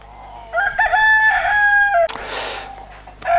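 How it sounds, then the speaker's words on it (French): A young rooster of a Limousin hackle breed crows once, loud and near, a long wavering cock-a-doodle-doo followed by a short burst of rustling and a brief second call at the end. "ça c'est un jeune coq"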